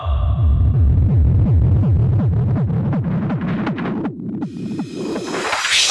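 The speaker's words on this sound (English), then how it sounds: "Sound of the techno bass." Loud techno bass music thumps in a fast repeating pattern of deep, pulsing bass hits with sweeping tones. Near the end the bass thins out into a rising noisy whoosh.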